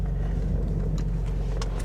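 A 2015 Ford Mustang EcoBoost convertible driving, a steady low engine and road rumble heard from inside the car, with a few faint clicks and knocks over the drone.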